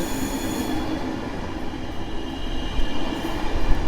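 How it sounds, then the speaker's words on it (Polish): An eight-car Intercity Sobieski passenger train passes close by at Warszawa Gdańska station, a steady loud rumble of wheels and cars that swells toward the end. "8 pudeł, czyli 8 wagonów pociągu Intercity Sobieski z Gdyni Głównej do Wiednia Głównego."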